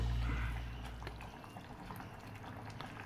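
Okra pieces dropped into a simmering Malvani curry, a soft splash followed by steady bubbling and sizzling liquid, close and moderately quiet.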